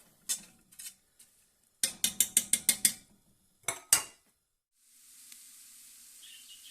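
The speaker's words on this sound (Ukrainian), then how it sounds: "Зараз 5 хвилин обжарюємо цибулю на маслі." Sharp mechanical clicks and ticks come in scattered bursts, then onion hitting hot oil in an Afghan kazan sets off a soft, steady sizzle that carries on to the end.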